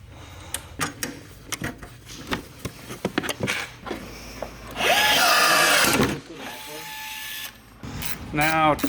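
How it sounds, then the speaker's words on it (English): Power drill driving bolts back in during a BoonDocker tunnel exit exhaust install on a Polaris Patriot Boost snowmobile, with a loud sustained whir midway and a shorter burst near the end among clicks and handling noises. "Now tighten your bolts back up."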